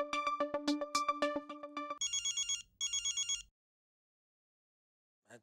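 A telephone ringtone in a Hindi sitcom home scene: a bright, tonal electronic ring repeats in short bursts for several seconds, loud and close, then stops, leaving near silence with a faint click at the end.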